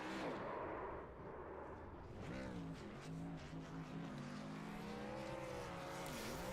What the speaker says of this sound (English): As we'll see him burn it on down here on the front stretch at Watkins Glen.